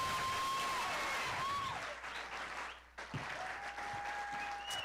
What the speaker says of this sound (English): Either those are real big applause